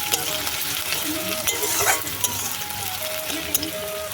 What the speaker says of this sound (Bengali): পেঁয়াজগুলো এবার ভালো করে নাড়িয়ে নেব